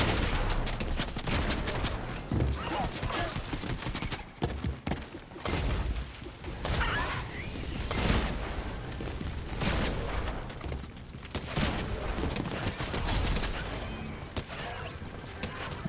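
Assault rifle fire in Fortnite, including a red eye assault rifle: dense, rapid bursts of close gunshots with sharp cracks, some impacts and shattering, sustained over a busy battle mix.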